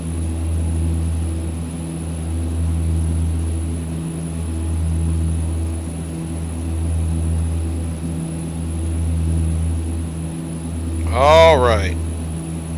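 Steady propeller drone of a Saab 340 turboprop climbing over Alaska in the X-Plane 11 flight simulator, a constant low hum throughout with a brief spoken remark near the end.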